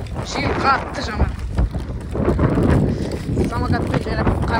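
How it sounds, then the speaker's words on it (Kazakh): Strong wind buffets the microphone outdoors on a summer carp-fishing trip near Atyrau, a steady loud rushing roar with gusts, while voices talk over it. "Міне, короче, жел қатты жаман."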